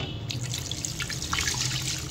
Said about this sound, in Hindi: अब मैं इसके अंदर पानी ऐड करूंगी